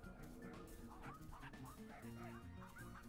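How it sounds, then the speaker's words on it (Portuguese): Dog barks and yips in the video game Finding Paradise, quick overlapping game sound effects over chiptune-style music, steady and moderately loud throughout. "o dog me protege do ataque dos cachorros"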